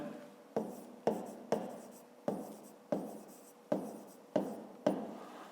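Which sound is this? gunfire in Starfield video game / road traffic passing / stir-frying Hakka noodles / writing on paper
writing on paper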